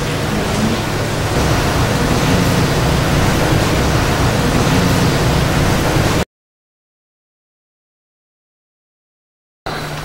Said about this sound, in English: The rain is so noisy, it's hard to tell.